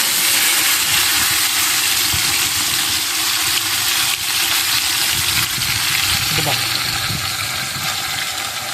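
Chopped onions hit a hot pan and fry with a loud, constant hiss and crackle that fills the whole stretch, steady and close.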